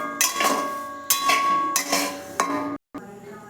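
Semolina is stirred in a metal pan for jhal suji, with repeated scraping clanks of the spoon against the pan roughly every half second to second, ringing briefly, up close and with no talk.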